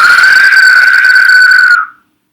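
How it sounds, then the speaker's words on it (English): A person whistles one long, steady note through pursed lips, loud and close, holding it about two seconds before it cuts off into silence. "You can make a whistle, that's great."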